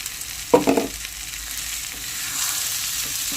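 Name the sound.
green peas added to pan and frying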